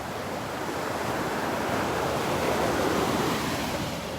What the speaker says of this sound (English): I'm out on the beach by the La Playa Hotel now